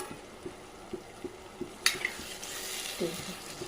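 Tomato masala paste frying in separated oil for an oyster dish, with a low steady sizzle and soft rhythmic knocks of a spoon stirring against the pan, followed by a sharper clatter.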